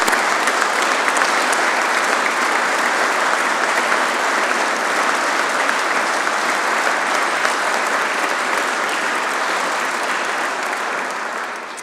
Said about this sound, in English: So please, another round of applause for Corporal Wilson.